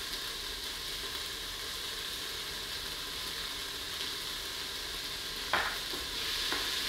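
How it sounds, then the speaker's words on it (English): Minced garlic sizzles among translucent, softened onions in a pan, a steady quiet hiss with one brief stirring knock toward the end. "Onions are translucent and softened, I'm going to add my minced garlic."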